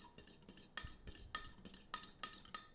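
Three ingredients mixed together in a bowl for bread rolls: a quiet, rhythmic series of utensil scrapes and clinks against the bowl, about ten strokes in quick succession, close and faint.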